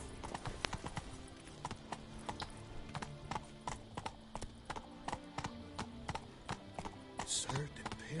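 Horse hooves clip-clopping in the video game Witcher 3, a steady rhythmic patter of hoofbeats running throughout with music and game sounds underneath.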